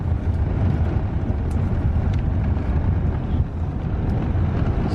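Inside a moving car, a steady, loud low rumble of road and wind noise runs throughout, with a few faint, brief higher chirps on top.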